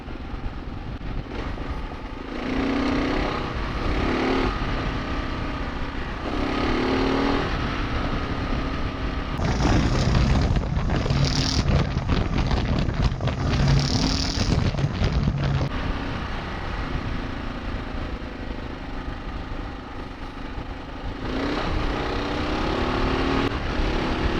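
Motorcycle ridden on a gravel road, with the back tire let loose, its engine droning steadily and continuously through heavy wind rush on the microphone, growing louder and rougher in the middle stretch.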